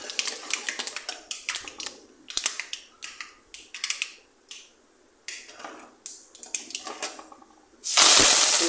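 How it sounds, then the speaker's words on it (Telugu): Dried red chili, urad dal, chana dal, mustard and cumin fry in oil with bursts of crackling pops and sizzles, followed by a loud hissing sizzle at the end. "ఎండుమిర్చి కూడా ఆయిల్లో 1 minute ఫ్రై అవ్వాలండి"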